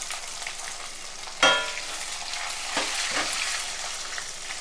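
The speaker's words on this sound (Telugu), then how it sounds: "ఇప్పుడు నేను ఆవాలు కూడా వేస్తున్నాను, ఆవాలు జీలకర్ర కూడా వేసేస్తున్నాను, అలాగే ఎండుమిర్చి కూడా చూపించాను." Mustard seeds, cumin and dried red chillies hit hot tempering oil with a sudden loud burst of sizzle and spatter, then settle into a continuous crackling fry with a few more pops.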